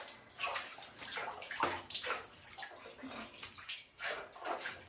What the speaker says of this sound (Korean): 이제 헹군물로 이동해서 뒷면부터 헹궈주고 그 다음 앞면을 헹궈줄게요.